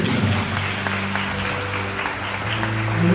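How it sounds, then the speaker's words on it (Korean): Wedding guests clap steadily for the bride and groom in a wedding hall, a moderate, continuous patter of hands over a low hum of background music. "여러분 축복의 박수 부탁니다"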